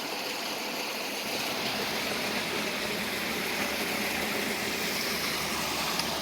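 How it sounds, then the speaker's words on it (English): A murky stream runs past a construction site, its water rushing in a steady, close, broadband wash that stays constant throughout, with no voices. "this water is coming from past this construction site"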